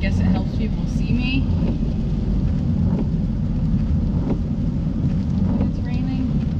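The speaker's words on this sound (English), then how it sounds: "It's raining pretty bad." Heavy rain pounding a car while driving, a dense steady roar mixed with road and wind rumble, with a voice talking over it now and then.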